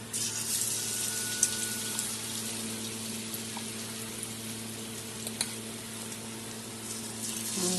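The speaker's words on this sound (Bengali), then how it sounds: "এখন তেল আমার গরম হয়ে গেছে, এখন আমি ভেজে নেব" Rice-flour coated pumpkin fritters frying in hot oil, a continuous dense sizzle and crackle with a few small pops, close and steady throughout.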